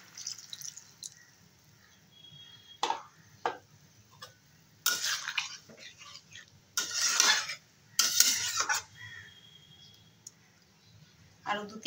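Mustard paste is stirred into a simmering fish roe curry, giving close, irregular bursts of wet scraping and spoon clicks against the pan over a low background hum.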